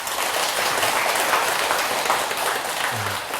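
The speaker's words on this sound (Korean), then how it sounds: "네, 박수 한번 치세요." An audience applauding at a Buddhist monk's talk on filial piety, a steady dense wash of clapping from many hands filling the room throughout.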